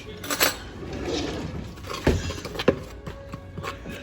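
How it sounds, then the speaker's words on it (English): A fork mixes salt paste in a dish, giving scraping and clinking strokes against the bowl with a few sharper taps, close and uneven in rhythm. "And then you mix it with a fork"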